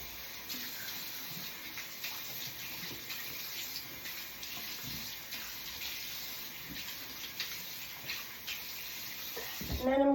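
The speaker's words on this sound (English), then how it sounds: "Now I'm going to wash that off with water." Tap water running steadily into a sink for washing off the face, a continuous soft splashing hiss that stays fairly close and even throughout.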